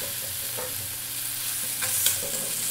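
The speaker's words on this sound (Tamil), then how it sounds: "நல்லா தக்காளி குழஞ்சி வர வரைக்கும் நல்லா வதக்கிடலாம்" Tomato sautéing with rock salt and turmeric, a steady close sizzle with a few light spatula scrapes and taps, no voices.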